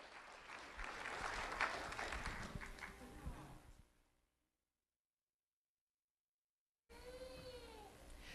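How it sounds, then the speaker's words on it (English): Applause rises at a sheriff's office ceremony honouring an elementary school student, a steady patter of many hands for about four seconds that fades into silence before a voice begins speaking. "Let's have a round of applause for Travis Gladys."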